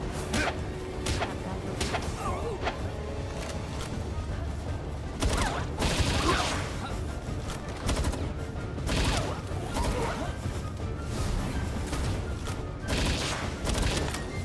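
Assault rifle fire in the game Palworld, repeated sharp bursts and single cracks scattered through a busy battle, loud and close, with players talking over the shooting.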